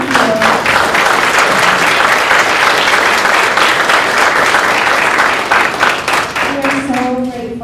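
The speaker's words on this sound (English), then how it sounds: "we can give them a round of applause" Loud, sustained applause from a school audience honoring board members at a senior AVID night, dense clapping filling the hall before tapering off as a voice resumes near the end.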